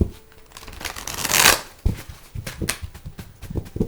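A deck of cards is riffled and shuffled, with a loud burst of rapid flicking followed by several quicker snaps and shuffles nearby.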